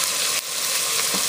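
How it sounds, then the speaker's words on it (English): Onions go into melted butter in a pan for crawfish fritters, giving a steady, close, loud sizzle and crackle of frying with no pauses, alone without talk. "So the butter's melted, and what I'm going to do is I'm going to add all of the onions."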